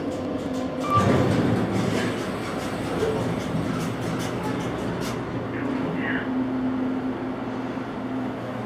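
Odd rumbling and clattering noises in the shaft of a KONE EcoSpace machine-room-less traction elevator in a parking garage, a steady low mechanical rumble with a louder surge early and faint squeaks later, continuous and fairly loud.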